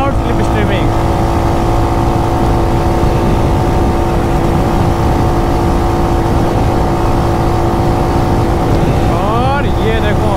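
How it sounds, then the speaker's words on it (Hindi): A Royal Enfield Hunter 350 motorcycle accelerating hard in fourth gear during a drag race, its engine loud, close and droning steadily, with a voice talking over it. "अब मैं फिर से भगाऊंगा अपनी हंटर और फोर्थ गियर के साथ ही भगाऊंगा"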